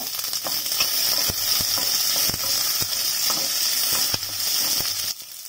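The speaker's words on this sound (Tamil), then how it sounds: "சின்ன வெங்காயம் ஒரு 15 உரிச்சு வச்சிருக்கிறேன், அதை போட்டுருவோம். ரெண்டு பச்சை மிளகாய் போட்டுருவோம்." Shallots and green chillies hit hot oil in a pan for hotel-style tiffin sambar, crackling in a dense, continuous sizzle with sharp pops scattered throughout, close and loud, no talk.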